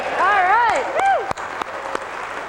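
A lively crowd at Comdex in Las Vegas cheers and whoops, with rising shouted voices and scattered claps, fairly close and loud.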